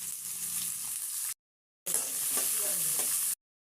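Onion, ginger, poppy seeds and tomato fry loudly in a pan, a dense close hiss with stirring scrapes, cut by a brief silent gap before the sizzle resumes.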